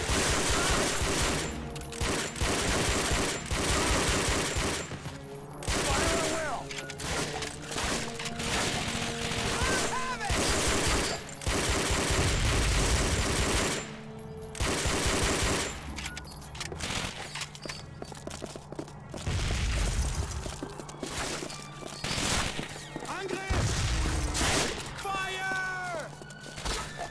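Machine gun fire in the World War II shooter Call of Duty: Finest Hour, a bridge assault on the Western Front: sustained bursts of gunfire with scattered shots and battle noise running throughout, fairly loud and dense.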